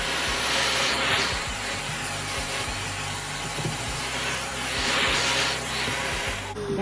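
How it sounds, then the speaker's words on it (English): A vacuum cleaner runs steadily over a glass mosaic to pick up sharp shards, a continuous loud hiss and whine with rattles and small knocks underneath, no talking. "That's my secret weapon, my vacuum."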